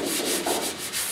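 Sandpaper of 220 grit rubs steadily over the cab of a 1972 Ford 4x4 short-box truck during final prep for paint, a close, dry hiss pulsing in about five quick strokes.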